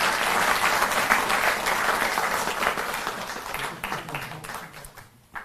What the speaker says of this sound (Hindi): तो एक बार जोरदार ताली बजती रहें।